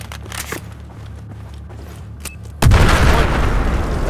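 A loud, sudden explosion erupts in Battlefield 4 after a few quiet clicks and thuds, followed by a sustained roaring rumble of debris and noise.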